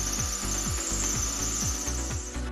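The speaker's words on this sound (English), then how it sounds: "drill small pilot holes up through the ceiling and into the 4 support clips" A drill bores small pilot holes up through a ceiling into support clips for a Glidevale Sunscoop tubular rooflight diffuser, a loud close whine with rhythmic pulsing strokes.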